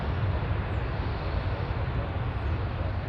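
A jet airliner landing at Dallas/Fort Worth airport, heard as a steady, loud, broadband engine roar that holds evenly for the whole stretch, with no clear voices over it.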